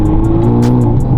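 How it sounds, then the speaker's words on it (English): Straight-piped Hyundai Elantra N with exhaust valves open and windows up, heard from inside the cabin: a loud, steady, deep exhaust drone with rapid regular crackling pops layered over it. "this valves open, windows up, and it sounds crazy. The pops."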